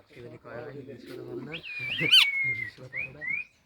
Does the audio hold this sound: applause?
no